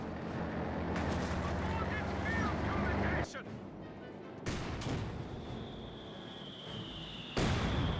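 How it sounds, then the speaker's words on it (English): Battle sounds in the real-time strategy game Company of Heroes 2, with bursts of gunfire and booming explosions, several sharp loud blasts cutting in over a dense background of combat noise. "Explosion over here."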